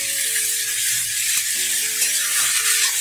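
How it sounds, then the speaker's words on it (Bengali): Jukti flowers and potatoes fry in a little oil in a wok over low gas, producing a loud, continuous close-up sizzle with a faint tonal hum beneath. "এটা কিন্তু খুব ভালো করে ভেজে নিতে হবে।"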